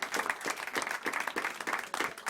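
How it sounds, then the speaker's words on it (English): An audience at a board meeting applauds parents, producing a continuous patter of many hands clapping at a modest, somewhat distant level that holds steadily throughout. "Let's give them a round of applause too."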